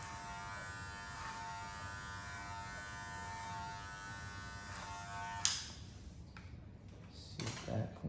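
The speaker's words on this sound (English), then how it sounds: "So we're just gonna keep working on that over clipper over comb." Electric hair clippers buzz steadily through a men's home haircut done clipper over comb, a constant close hum for about five seconds, then it stops and a few brief rustles and clicks follow.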